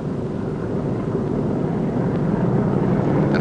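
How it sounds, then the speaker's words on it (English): A Boeing B-29 bomber engine runs with a loud, steady rumbling drone mixed with roaring wind-like noise, continuous and close for the whole stretch. "Next, start on the number 2 engine."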